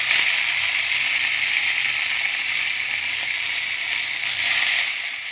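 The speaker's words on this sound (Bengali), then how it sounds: "এবার শাকটা ভাজবো। তো চলো শাকটা দিয়ে নিই। কড়াইটা খুব গরম হয়ে গেছে" Water spinach greens hit a very hot frying pan and sizzle loudly and steadily, a dense continuous hiss close to the pan that swells slightly near the end, with no voices.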